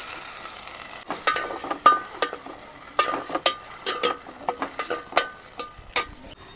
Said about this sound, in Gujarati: હવે આપણે આ ટમેટા મોયા હતા બધા દેશી ટમેટા છે એ નાખી દઈશું.